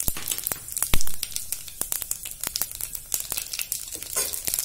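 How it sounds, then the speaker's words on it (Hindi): Cumin seeds dropped into already hot oil, crackling and popping sharply in dense, irregular bursts over a continuous sizzle, close and fairly loud with no talking. "ऑयल तो गर्म है ऑलरेडी। जीरा डालेंगे"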